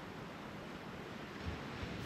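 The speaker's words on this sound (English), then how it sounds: "listening to the sound of the ocean" Ocean waves wash against the Irish coast in a soft, steady roar of surf with some wind noise. The sound is faint and continuous, and no one speaks.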